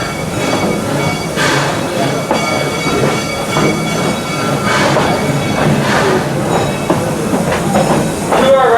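An amusement park train at Six Flags St. Louis rolls along the track, with loud rhythmic clickety-clack of wheels and metallic squeals heard from on board, steady throughout.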